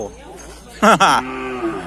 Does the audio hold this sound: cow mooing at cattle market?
yes